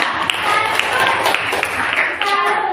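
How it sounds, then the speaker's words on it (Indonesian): A group in a classroom setting claps for a student named Dila, a short burst of scattered applause with a voice talking over it. "Aplaus buat Dila."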